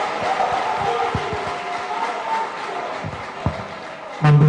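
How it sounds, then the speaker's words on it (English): A crowd of political delegates at a constituency gathering claps and murmurs in a continuous, noisy wash, with scattered sharper claps, a brief louder burst near the end. "Clap for yourself."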